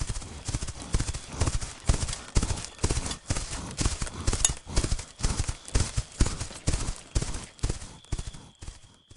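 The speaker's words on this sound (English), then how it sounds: "the 3 head into the barn, saddle their horses, and head out, with Baldwin in the lead." Horses' hooves clip-clopping on a road as riders set out, a steady rhythmic series of close, crisp hoofbeats going on throughout.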